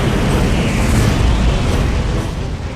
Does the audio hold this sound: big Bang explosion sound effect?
yes